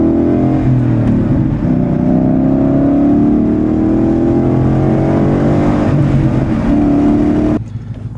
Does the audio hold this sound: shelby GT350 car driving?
yes